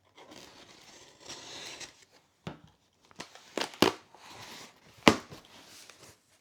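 Tape is pulled and peeled off a toy storage box in short crinkly rips, a few sharp tearing bursts between quieter rustling, close and fairly soft.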